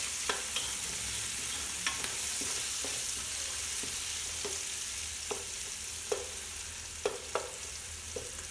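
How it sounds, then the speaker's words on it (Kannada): Tomatoes with turmeric fry in a pan for a country-chicken biryani, giving a steady close sizzle broken by scattered light clicks and scrapes of a stirring spoon. "ಚೆನ್ನಾಗಿ ಫ್ರೈ ಆಗಲಿ, ಆ ಟೊಮ್ಯಾಟೊ ಎಲ್ಲ ಸ್ವಲ್ಪ ಸಾಫ್ಟ್ ಆಗಲಿ"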